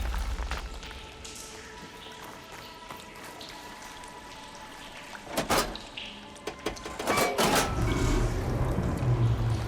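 In the video game Horizon Forbidden West, water runs and pours steadily after a switch is flipped, with splashing surges and dripping that grow louder toward the end, no voices present.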